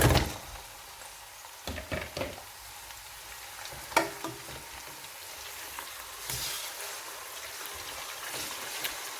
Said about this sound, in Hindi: अब हम इसमें मीट ऐड कर लेंगे और उसको 10 से 15 मिनट तक भूनेंगे।